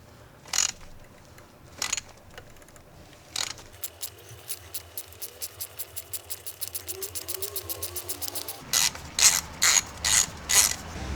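A ratchet with a 1 1/16 socket loosening the oil filter on a Ford F-150, a few separate clicks followed by a rapid run of close, loud ratcheting pawl clicks, then slower strokes, with no talking.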